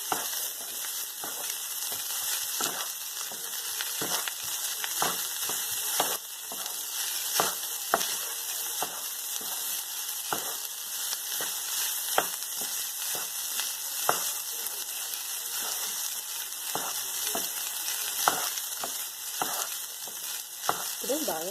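Chicken fried rice being stir-fried in a pan gives a steady, loud sizzle. Frequent sharp scrapes and clacks of a utensil tossing the grains break in throughout, and no one speaks.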